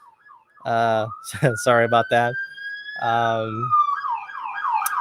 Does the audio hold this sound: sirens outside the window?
yes